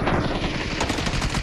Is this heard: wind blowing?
no